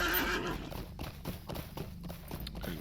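A horse in the game LOTRO clip-clops along in a steady, close trotting rhythm right after mounting, with a brief neigh near the start.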